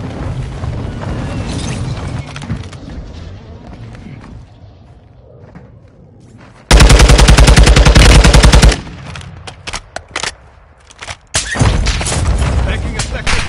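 Incoming gunfire in a military shooter game: a long, loud burst of machine-gun fire dominates the middle, with scattered shots, cracks and thuds before and after, and voices talking over the action.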